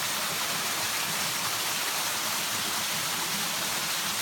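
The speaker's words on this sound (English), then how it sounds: "the water cascades down into this large pool area" A waterfall pours over layered rock into a large pool on rural acreage in Douglas County, Missouri, producing a steady, full roar of falling water with no breaks.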